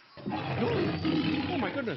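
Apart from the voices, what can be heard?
lion or tiger roaring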